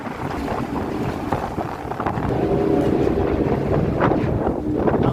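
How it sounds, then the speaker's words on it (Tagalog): Strong sea waves and heavy wind buffeting a ship off Malta, a constant loud roar with crashing water and gusting wind noise on the microphone, no voices. "Ang lakas ng alon."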